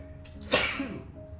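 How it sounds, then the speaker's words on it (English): A single sharp sneeze bursts out close by, loud and abrupt, then trails off into quiet room tone. "Need to sneeze"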